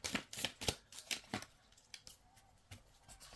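Cards being handled and pulled from a deck of reading cards, giving a run of quick, close papery swishes and flicks that are loudest at first, then thin out to softer, scattered rustles.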